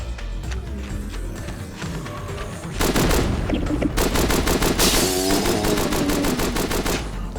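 Rapid automatic gunfire rings out while zombies are shot in a sewer level of the video game Bedlam: quiet ambience at first, then loud sustained bursts of shots packed close together through the rest of the passage.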